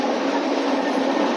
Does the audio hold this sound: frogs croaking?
no